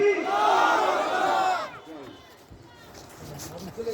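A large crowd at an Islamic religious gathering roars back an Allahu Akbar chant after the takbir call, a loud unified shout for about a second and a half, then fading to quieter murmurs and voices.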